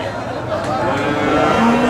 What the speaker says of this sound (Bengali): আমাদের সামনে যে কালো ষাঁড়টি আছে